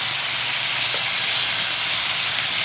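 Tomato goes into a hot pan with onion and garlic, producing a loud, steady, continuous sizzle and hiss with no pauses.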